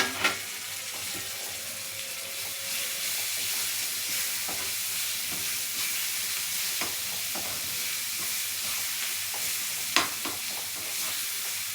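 Bitter gourd and onion frying in a pan over high heat, with a steady close sizzle and occasional scrapes and knocks as the mixture is stirred, no talking.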